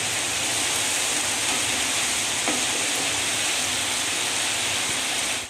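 Spice paste for a paneer and papad curry sizzles and fries steadily in hot oil, a dense, even hiss that carries close and loud from start to finish with no talking.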